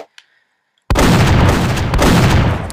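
Gunfire in a video game played with an Xbox controller on a Mac: after a near-silent moment, a loud, sustained burst of rapid shots fills the rest, with a slight break partway through.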